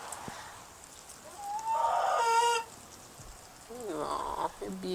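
Orpington hens in a winter UK garden give a few short harmonic clucks and drawn-out calls at close range, with a burst near the middle and another toward the end, between quieter stretches.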